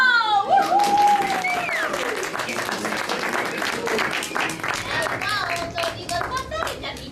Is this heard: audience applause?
yes